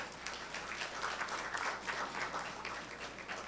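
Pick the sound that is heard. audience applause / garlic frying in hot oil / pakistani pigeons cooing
audience applause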